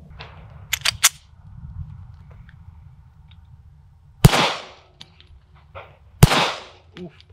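A Staccato P 2011-style duty pistol fires at targets on a range, with a few quick sharp cracks early on, then two louder, widely spaced shots echoing outdoors over faint background noise.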